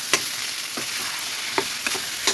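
Taro leaves and chili powder being stirred in a pan: a faint frying hiss steadily underneath, broken by several sharp scraping strokes of a utensil at irregular intervals.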